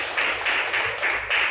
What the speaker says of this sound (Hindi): ताली बजाओ यीशु के नाम में।